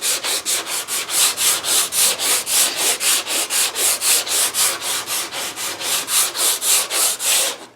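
A wooden guitar neck being hand-sanded on a one-piece guitar build, with steady back-and-forth rasping strokes repeating about three times a second, close and loud, with no talk.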